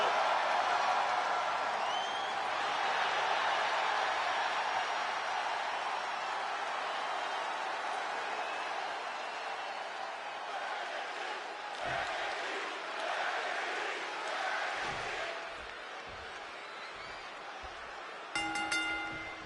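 A WWE 2K26 wrestling arena crowd roars in a continuous dense wash of cheering, with thuds and impacts from the ring toward the end and a short chime at the close.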